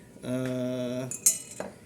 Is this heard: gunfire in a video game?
no